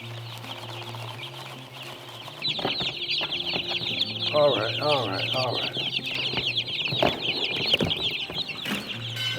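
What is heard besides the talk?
one-week-old meat chickens clucking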